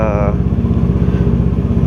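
A 400S motorcycle engine runs close by with a steady, throbbing low rumble through the whole stretch, and a brief higher tone fades out at the start.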